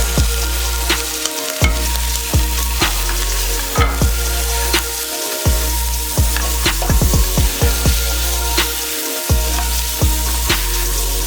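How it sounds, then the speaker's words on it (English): Boiled beef with pilau spices cooks in a hot pot, a steady loud sizzle running throughout while a spoon stirs and scrapes in repeated sharp clinks and knocks against the pot. "add in your boiled beef and pilau spices. Mix them and let them cook as well."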